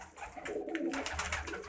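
Pigeons cooing softly inside a bamboo cage, a steady low murmur of calls close by with some scattered background noise.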